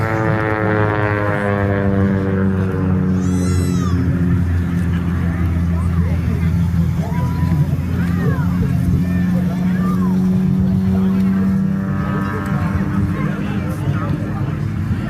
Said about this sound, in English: The radial engine up front.